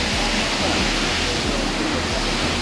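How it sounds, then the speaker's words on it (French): The 42-metre Cascade de Sillan in the Gorges du Verdon, France, roaring loud and close as a dense, continuous rush of falling water, with a faint low voice murmuring underneath. "Apparemment c'est une très belle cascade, une des plus belles de France."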